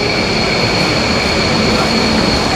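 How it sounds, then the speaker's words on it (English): Singapore metro train pulling into a station: a loud, continuous rumble of wheels and motors with steady high-pitched electric whine tones throughout. "The metro has arrived."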